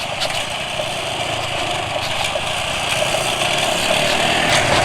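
A motorcycle engine idles steadily and up close, a constant mechanical drone with a faint rattling texture that holds an even level throughout.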